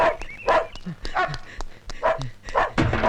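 Several dogs bark and yip in quick, repeated bursts, fairly close, with a few higher whimpering yelps between the barks.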